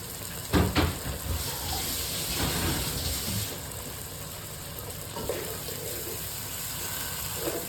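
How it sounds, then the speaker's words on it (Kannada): Ground masala paste hits a hot pan for aloo capsicum curry, giving a brief burst of stirring and splatter followed by a steady, even sizzle and hiss with no talk. "ರುಬ್ಬಿದ ಮಸಾಲ ಈ ಥರ ರುಬ್ಬಿ ನಾನು ಈಗ ಹಾಕ್ತಾಯಿದ್ದೇನೆ"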